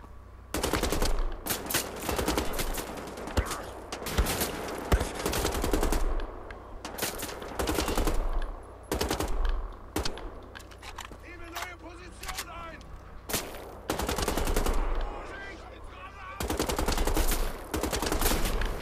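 Rapid gunfire from enemy-shooting combat in Wolfenstein: The Old Blood, repeated loud automatic bursts and single shots in quick rhythm, with someone talking between and over the volleys.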